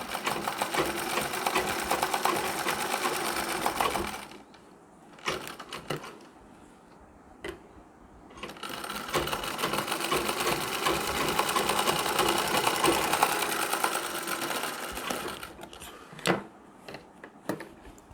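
Sewing machine stitching a nauvari saree, running in long steady bursts with a break in the middle, broken by a few sharp clicks and knocks, close and alone.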